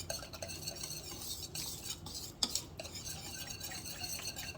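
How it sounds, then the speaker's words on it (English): A tiny whisk stirs a thin dough mixture for mkhabez in a bowl, giving quiet, rapid scraping and light clinking close by with no voices. "using a tiny whisk like this and whisk it together"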